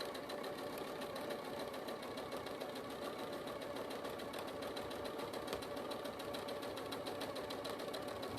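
A sewing machine stitching a trapunto quilt runs in a steady, fast mechanical rhythm, its needle chatter repeating evenly and close by throughout with no talking.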